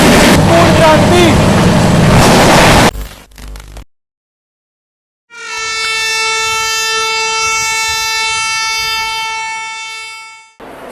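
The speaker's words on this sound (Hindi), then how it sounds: "सुपरफास्ट एक्सप्रेस आ रही है दोस्तों।" A superfast express train, the Patliputra SF Express, roars past with a loud rushing rattle, then after a brief silence sounds a long, sustained horn blast, near and loud.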